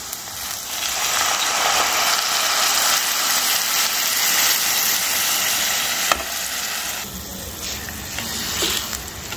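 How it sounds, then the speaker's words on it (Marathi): Soaked rice being added to a pot and stirred for a half-kilo batch of veg pulao, giving a continuous loud scraping and sizzling churn with a brief clatter partway through. "आपण जो तांदूळ 15 ते 20 मिनिटं भिजवला होता आधी तो टाकून घेणार आहे आपण."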